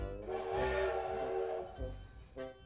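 Steam engines whistle impatiently, a sustained shrill tonal blast with hissing steam followed by a shorter second toot, moderately near and alone.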